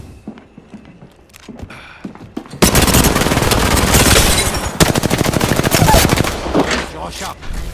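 Heavy enemy automatic gunfire from the video game Apex Legends starts after a few scattered shots and bursts into loud, sustained rapid fire, then continues with a brief break.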